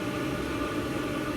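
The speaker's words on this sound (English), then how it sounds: "you can hear it sucking air right now through the intake right there, the dampers" A hybrid wood stove and waste-oil furnace running hot, drawing air through its intake dampers: a steady, close, broadband rushing hiss with a low rumble that holds evenly throughout.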